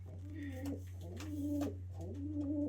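A pigeon hen coos to a cock bird in a loft, a close, repeated throaty rolling coo over a steady low background hum.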